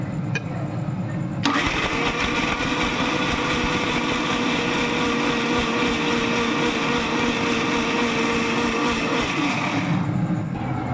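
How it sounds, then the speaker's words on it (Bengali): An electric mixer grinder grinding cut potatoes starts abruptly and runs at a loud, steady high-pitched whine for about nine seconds, then cuts off and spins down, close by with no talking. "এবার আমি মিক্সিতে দেবো।"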